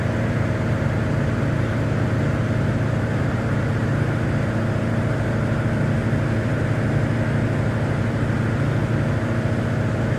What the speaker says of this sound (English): More power makes the helicopter climb, less power makes the helicopter descend.